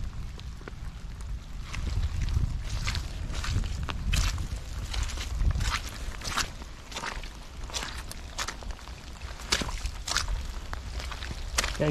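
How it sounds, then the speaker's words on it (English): Boots tread through mud over rocks in steady, close footsteps with soft squelching crunches, while light wind and outdoor ambience sit faintly beneath. "going through the mud, walking through the mud on the rocks"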